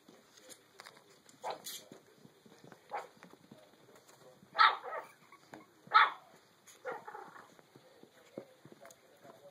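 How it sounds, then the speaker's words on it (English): A Chihuahua gives a few sharp barks in short bursts, spaced a second or so apart, with quieter clattering and movement noises around them. "what are you barking at?"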